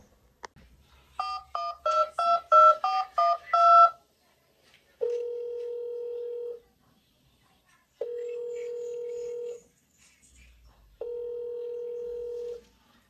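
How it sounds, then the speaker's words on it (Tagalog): A rapid run of telephone dialing beeps is followed by three long, steady ringback tones separated by silent gaps. "tatawagan ko muna siya sa telepono"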